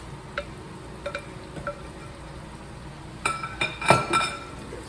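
A spoon scrapes and clinks against a pot while split pea soup with parsnip is stirred, a few light taps early and a cluster of louder metallic clinks toward the end, no voices.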